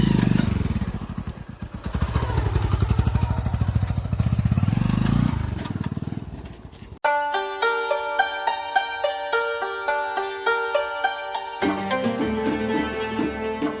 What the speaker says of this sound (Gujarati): આ બાઇક અશ્વે ચાલુ કરી દે છે